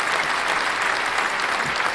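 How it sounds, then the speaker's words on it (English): Steady crowd applause with cheering at a live DEX launch event, dense and continuous throughout, a loud wash of clapping hands without pauses. "The crowd goes wild."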